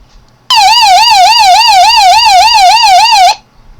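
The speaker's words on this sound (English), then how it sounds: "And there's a siren." A Degen DE13 emergency radio's loud, close siren wails up and down in a fast, steady cycle for about three seconds, then cuts off abruptly.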